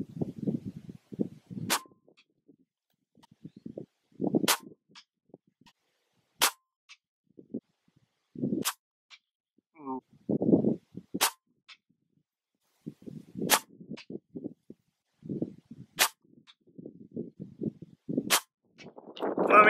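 Eight sharp, snappy shots from an unregulated PCP air rifle charged to 2800 PSI, fired at a distant target at widely spaced, fairly regular intervals, each a crisp crack followed by quiet handling and shuffling noises between shots.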